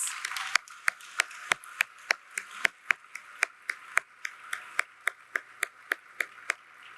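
Audience clapping at a university first-year orientation welcome, heard as a steady run of about twenty sharp, separate claps at a fairly even pace, with no voices.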